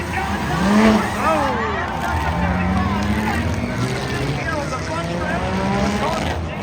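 Race cars roaring past on the oval at Langley Speedway during a two-car battle for second place, a steady loud engine drone with rising and falling pitch as cars sweep by, under continuous announcer-style talk.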